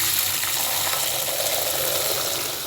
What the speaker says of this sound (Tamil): இப்போ தண்ணி வடிகட்டிக்கலாம்.